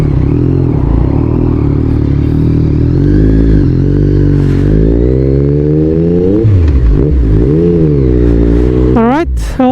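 A 2024 Yamaha MT09 motorcycle rides at close range, its engine note rising and falling through revs and gear changes, ending in a quick climbing rev, with wind rush throughout.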